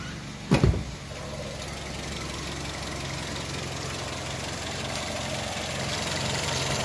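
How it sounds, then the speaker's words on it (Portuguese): A Toyota Etios engine idles steadily with a continuous low hum and faint whirring from a noisy water pump, after a brief knock or thump near the start. "a bomba de água, eu já verifiquei. Ela faz um barulhinho."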